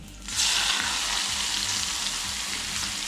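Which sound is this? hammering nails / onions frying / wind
onions frying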